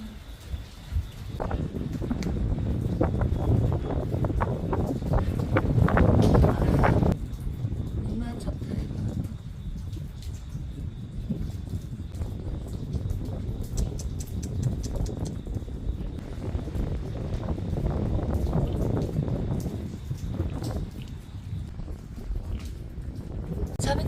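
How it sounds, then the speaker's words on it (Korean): Strong wind gusts across an outdoor street, a continuous low buffeting roar that swells and eases throughout, with people's voices and a few faint bird calls under it. "지금 바람 엄청 많이 분다. 바람이 엄청 많이 불어."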